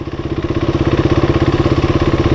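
A KTM motorcycle engine running slowly without revving, heard up close as a loud, steady, rhythmic low thumping pulse with no talk.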